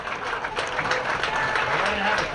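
A crowd applauding at a high school boys baseball game between Somerset-Berkley and Reading Memorial, a steady spread of clapping from the stands that lasts the whole moment.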